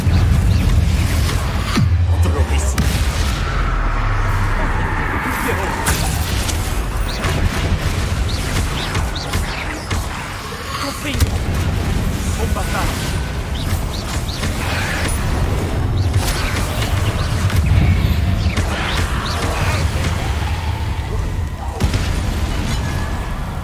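Confringo spell blasts go off in Hogwarts Legacy during a fight against Inferi, loud booming bursts and crackling impacts over a dense, busy battle soundscape with faint speech at moments.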